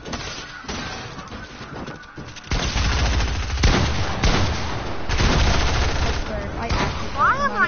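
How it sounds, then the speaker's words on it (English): Sustained video-game gunfire from a player spraying shots, with loud continuous automatic bursts and impacts after a quieter opening, over busy game noise. "Sorry, I'm just shooting anywhere."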